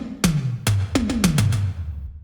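Compressed synthwave toms with a punchy, processed sound, struck one after another in a descending fill. Six loud hits land across about two seconds, each with a sharp attack and a booming pitched tail that overlaps the next.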